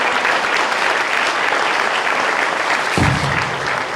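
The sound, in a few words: audience applauding at Veterans Day event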